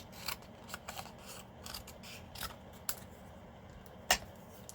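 Scissors snip through paper for card making, a series of soft, close, irregular cuts with one sharper snip near the end, heard alone with no talk.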